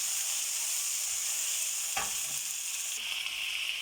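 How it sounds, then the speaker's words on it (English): Onions and garlic frying in oil for a Bangla-style kala channa snack, a steady close hiss of sizzling throughout, with a brief stir or clatter midway and the sizzle brightening slightly afterward. "I'm putting the onions in next. And just fry those first for a minute or so."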